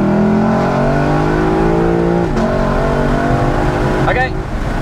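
A Lexus LC500 pulls hard from a standstill in a 0-100 acceleration run, its loud engine roar climbing steadily in pitch, dropping briefly at a gear change, then rising again before a second shift near the end.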